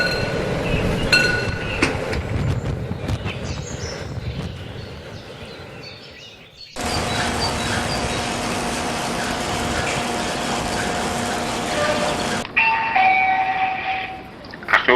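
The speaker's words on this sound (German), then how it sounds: "Schranke öffnet." Level crossing barrier opening on an N scale 1:160 model railway, an electronic bell ringing steadily for several seconds among layered railway sound effects and engine hum, with no speech.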